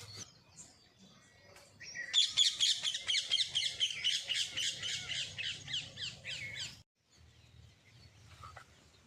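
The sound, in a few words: parrot calling from a neem tree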